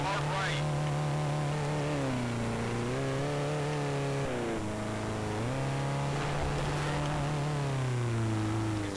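A dirt bike engine in the Jeremy McGrath Offroad video game on Xbox 360 winds out with a steady droning whine whose pitch climbs and dips with the throttle, loud and continuous.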